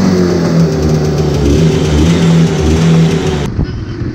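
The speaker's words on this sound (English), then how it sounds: "let's give the old check a nice ride" A Jawa Type 593 motorcycle engine runs loud and steady while riding, a continuous droning hum with a low rumble that cuts off abruptly near the end.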